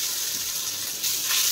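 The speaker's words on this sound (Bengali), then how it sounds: "জাস্ট গোল্ডেন ফ্রাই করবো, বেশি কিন্তু ভাজবো না" Food frying until golden in a hot pan of oil, giving a steady, close hiss of sizzling that swells slightly louder toward the end, with no voices.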